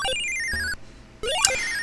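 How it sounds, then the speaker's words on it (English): Synthesized bell ringing from the Amstrad CPC464 game Hard Hat Mack: bright electronic chiming tones with rising and falling pitch sweeps, broken by a brief near-silent gap, then a fresh sweeping burst. "Well, while we're up here, let's ring the bell."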